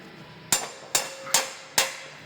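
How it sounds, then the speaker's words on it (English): Four sharp, evenly spaced hammer blows ring out against red-hot stainless steel exhaust pipe on a Prodrive STi build, each strike loud and close with a short metallic ring. "Let's give it the hammer."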